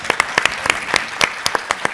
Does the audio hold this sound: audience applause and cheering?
yes